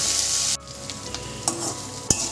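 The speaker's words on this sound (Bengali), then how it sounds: "এই রসুন আর পেঁয়াজটা ভালো করে বেশ কিছুক্ষণ সময় ধরে একটু ভাজা ভাজা করে নেব।" Garlic cloves and onion fry in a pan. A bright hiss drops off abruptly early on, then a softer sizzle continues with a few sharp spatula scrapes.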